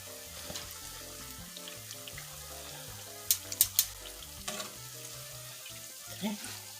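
Jackfruit fish fritters frying in a small pan, a steady oil sizzle with a few sharp pops and clicks partway through, no talk.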